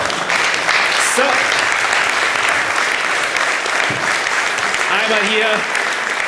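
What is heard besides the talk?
audience applause for a quiz winner at a keynote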